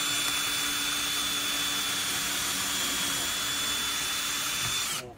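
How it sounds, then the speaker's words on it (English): A power drill runs steadily at high speed while pre-drilling a hole for a door hinge screw, a loud continuous whine close by that cuts off abruptly at the end. "So you have to pre-drill"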